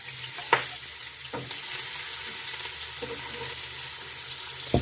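Chopped onion sizzles in hot oil in a pan, a steady close frying hiss with a few sharp pops and stirring clatters, no voices over it.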